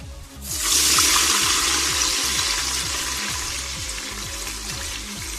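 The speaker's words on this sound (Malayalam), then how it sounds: "നമ്മൾ ചിക്കൻ ആദ്യം വേവിച്ച് വെച്ച വെള്ളം ചേർത്ത് കൊടുക്കാം" Chicken stock poured into a pot for kuzhimandi, a loud rushing splash starting after a brief pause and settling into a steady hiss with a low rhythmic hum beneath.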